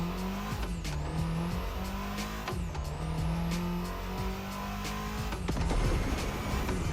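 An Abarth 500 in the racing game The Crew Motorfest accelerates flat out toward top speed, its engine note climbing through repeated gear changes, with short tire squeals and steady road roar and no voices.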